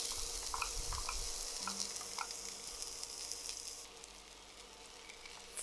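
Onions sizzle and fry in olive oil in a hot pan, a soft steady crackle with a few light stirring scrapes, heard alone at low volume.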